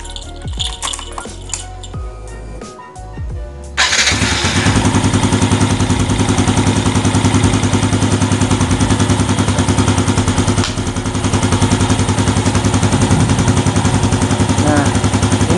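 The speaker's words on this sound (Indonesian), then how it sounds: "Kita colokan saja ini di sini di jarumnya dan kita nyalakan motornya." Motorcycle engine with a battery charging check underway: some clatter and handling, then the engine starts abruptly and settles into a loud, steady idle that continues to the end.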